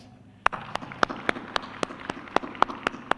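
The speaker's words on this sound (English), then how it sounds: "I think we should give them an applause" Handclaps from a small audience at the launch of an annual NGO sector report, a sparse run of about a dozen distinct close claps spaced evenly rather than a full applause wash.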